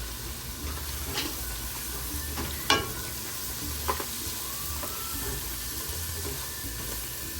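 Ground spices including turmeric are stirred in a sizzling pan, a continuous hiss with occasional spatula scrapes and taps, close and steady with no talking.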